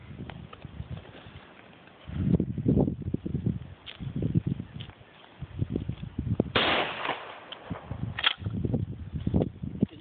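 A Winchester 1300 Defender pump shotgun fires outdoors. Two sharp, muffled reports stand out between lower rumbling thumps and bursts of noise.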